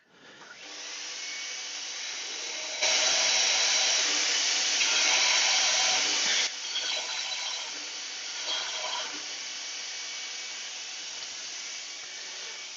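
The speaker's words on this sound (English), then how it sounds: "I'll just sand off the bottom of that." A power sander grinds off the bottom of a turned wooden bud vase nearby with a steady, loud whir. It rises sharply in the middle, then eases to a lower hum, and there is no talk.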